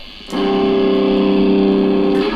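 A loud, sustained distorted electric guitar chord through Amplitube 5 amp simulation software rings out with heavy saturation after a brief quieter start, then cuts off.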